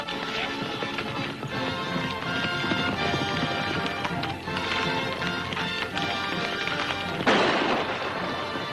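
Hooves of several galloping horses pound steadily over a busy rumble, with a louder burst near the end; no voices stand out.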